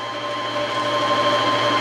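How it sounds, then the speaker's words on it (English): An Elna 450 sewing machine runs at top speed, a steady high-pitched motor whir with a fast mechanical hum, holding constant for under two seconds before cutting off abruptly. "So that currently is on top speed, and you can slow this sewing machine down."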